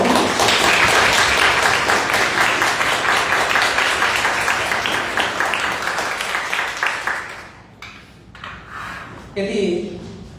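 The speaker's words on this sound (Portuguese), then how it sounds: "Peço uma salva de palmas de novo" Applause from an audience at a talk on memory, truth and dignity, loud dense clapping that gradually thins and fades over several seconds, leaving scattered claps and a voice speaking near the end.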